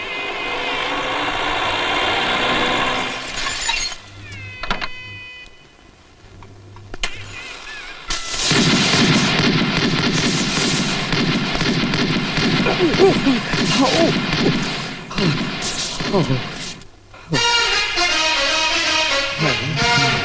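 Celebratory gunfire crackles and bangs in loud bursts, with a dense barrage of reports and voices in the background.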